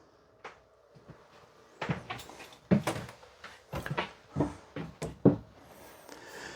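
Pantry cabinet doors with magnetic catches in a 2025 Forest River Arctic Wolf 3950SUITES fifth-wheel RV close in a series of sharp, close knocks and clacks, several in quick succession with soft shuffling between them.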